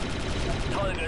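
Gunfire in the Star Wars Republic Commando video game, a dense burst of rapid blaster shots filling a single second, loud and close, with a voice talking over it.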